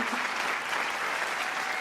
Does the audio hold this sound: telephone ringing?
no